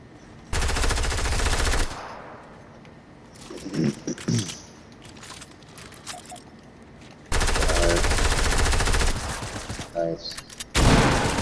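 Alien guns in the Fortnite video game fire in several loud, sustained automatic bursts separated by quieter gaps, with a player talking softly between the volleys.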